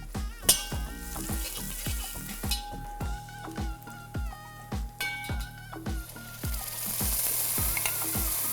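Onion and green chillies frying in ghee for a malai seekh biryani, with steady sizzling and frequent rhythmic stirring and scraping clicks in a pan, close and moderately loud, with no voices.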